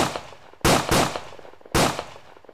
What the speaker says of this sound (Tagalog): Ang tunog ng mga putok ay umalingaw sa buong battlefield.